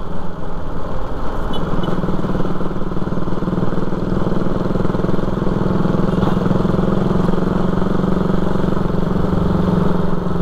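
A motorcycle engine idling outdoors, a steady close-up mechanical putter with light clatter that holds unchanged for about ten seconds, with no talking.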